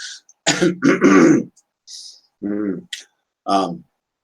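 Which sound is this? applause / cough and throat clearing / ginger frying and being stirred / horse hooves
cough and throat clearing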